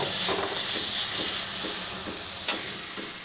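Ground spices stir-fried in a pan for a potato and egg curry, a continuous sizzle and hiss with soft scraping strokes and one sharp spatula knock near the end.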